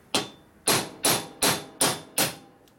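Six sharp hammer blows drive a new valve seal down over the valve guide on a 1950 Harley-Davidson Panhead cylinder head, struck in a steady rhythm, loud and close with no talk.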